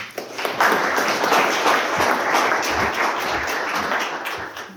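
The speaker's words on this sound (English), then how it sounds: "let us give one more big applause to both Carlin and Hecker" An audience applauds after a talk on avoiding nuclear catastrophe on the Korean peninsula, sustained dense clapping from a large hall that holds steady and then slowly thins out.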